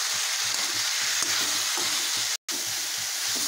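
Bell peppers frying in a pan with turmeric powder and salt for a yogurt capsicum curry, a loud steady sizzle broken by rhythmic scraping stirs of a spoon, with one brief dropout near the end.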